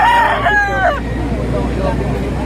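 A rooster at a Lipa, Batangas poultry market lets out one loud, close crow lasting about a second, followed by low market chatter and ambient noise.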